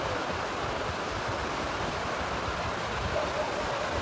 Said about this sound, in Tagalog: Medyo dako rin yung punak nga adiri.